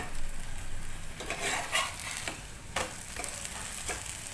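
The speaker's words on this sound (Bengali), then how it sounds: "দু পিঠ ভালোভাবে ভেজে নিতে হবে" Oats pancakes fry in a very hot pan with little oil, giving a soft continuous sizzle broken by several sharp scrapes and clinks of a spatula turning them.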